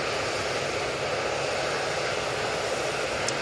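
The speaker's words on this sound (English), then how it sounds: "Jet2 737 now lined up, ready to go." A Jet2 Boeing 737 sits lined up for takeoff at Manchester Airport, its jet engines giving a steady, hissing roar at moderate distance with no change in level.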